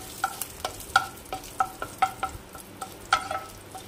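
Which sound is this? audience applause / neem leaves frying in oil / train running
neem leaves frying in oil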